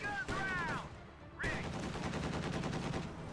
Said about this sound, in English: MG34 activating its incendiary rounds.